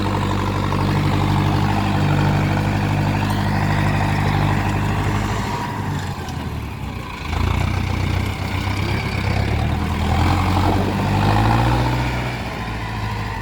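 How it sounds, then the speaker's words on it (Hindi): A tractor engine drags an 8-foot rotavator, its heavy low rumble loud and steady throughout with a brief dip in load midway before surging back. "भाइयों आवाज़ बहुत धांसू है ट्रैक्टर की, दबंग आवाज़।"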